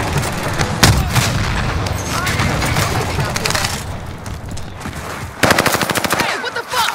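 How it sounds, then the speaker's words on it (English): Heavy PKM machine gun fire in Warzone, long rapid bursts with a sharp louder stretch near the end, loud and close, with game voices and chatter mixed in. "Watch where you're shooting!"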